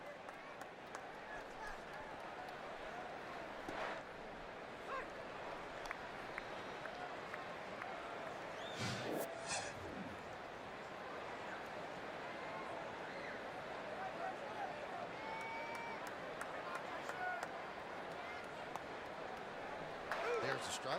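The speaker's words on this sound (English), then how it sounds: "Big crowd" Sold-out crowd at a 2008 Red Sox baseball game at Fenway Park: a steady, distant wash of stadium murmur throughout, with a brief swell near the middle and voices talking over it.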